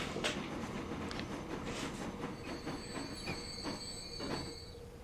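Freight train running in the video game Transport Fever 2: a steady loud rumble of rolling wagons with high metallic wheel squeals and faint rhythmic clicks throughout, no talking.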